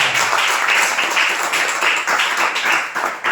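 Church congregation gives loud, sustained applause, a dense, close wash of many hands clapping that swells and holds for several seconds.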